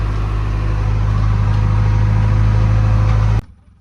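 A car stuck in place strains with a loud, steady engine drone and strong low hum for over three seconds, then cuts off abruptly, leaving quiet background.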